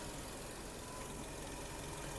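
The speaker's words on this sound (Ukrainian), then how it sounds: "Двигун працює чітко" A Volkswagen Golf 5 engine idles steadily with a constant, even hum and broadband mechanical noise, no voices present.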